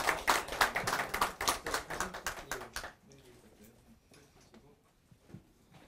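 A room of people claps at a party ceremony for newly appointed regional committee chairs, a brisk burst of hand claps that stops abruptly halfway, leaving quiet room noise and scattered small sounds.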